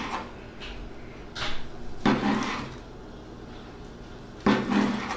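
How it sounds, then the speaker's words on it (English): A knife slicing smoked ham tenderloin on a wooden cutting board, with several thuddy knocks at irregular intervals as each slice comes through, over a steady background hum. "With the tenderloin, it's not too hard to slice it"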